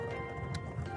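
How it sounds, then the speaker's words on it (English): Horse hooves clopping with a faint whinny in the fantasy video game Nights of Azure 2, a brief steady clatter under a constant musical bed. "Now the question is, who's riding these horses?"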